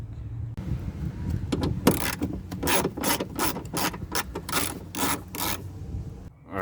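A hand ratchet backs out 10mm bolts from a 2008 BMW 3 Series door to free the window regulator and motor, in rapid loud clicking bursts with brief pauses between strokes, close up and without speech.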